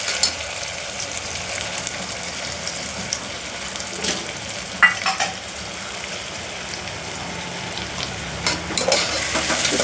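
Green pea masala rice being stirred in a hot pan, with a steady close sizzle and soft scraping under it, plus a few brief clinks and spikes along the way.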